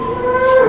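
A cow gives a short, loud, close moo with a rising tonal pitch, heard alone.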